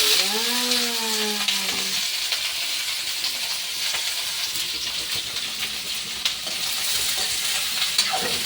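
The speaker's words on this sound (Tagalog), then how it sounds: "ito na mabango na ang ahos at saka bombay. Ilunod na natin ito." Garlic and onion sauté in oil in a pan, a steady bright sizzle and crackle running throughout, with a brief tonal whine near the start and occasional stirring clicks, close and fairly loud with no talking.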